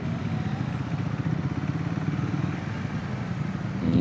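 Triumph 400X Scrambler ridden along, a steady, slightly rough single-cylinder engine drone with wind noise, continuous and fairly close, no talking.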